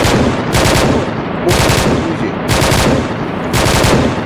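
Automatic gunfire crackles during a military field training exercise on a breaching drill: four loud, close, rapid bursts arrive roughly a second apart, each a dense rattle of shots with brief lulls between.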